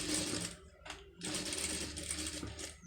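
A sewing machine stitches fabric on a sleeve over a thermocol backing for a pom pom design. Its motor runs in steady, close bursts with a brief pause near the middle.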